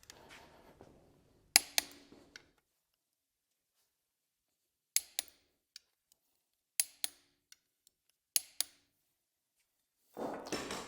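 A torque wrench clicks sharply while tightening connecting rod bolts on an MGB performance engine, isolated double clicks spaced apart in a quiet workshop, with faint rustling at the start and end.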